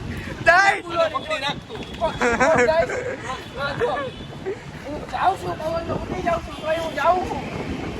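Strong wind gusts and buffets the microphone in a steady roar, while someone talks loudly over it throughout.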